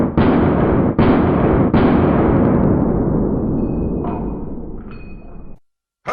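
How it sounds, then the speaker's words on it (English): Three loud pistol shots fired one-handed at a shooting practice ring out in quick succession, each followed by a long booming echo that fades over several seconds. "I'm just trying to practice shooting with one hand, with my dominant hand only"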